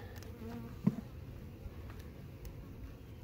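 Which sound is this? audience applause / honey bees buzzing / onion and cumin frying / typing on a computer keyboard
honey bees buzzing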